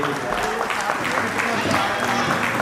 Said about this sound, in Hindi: एक बार जोरदार तालियां विभोर और मीनल के लिए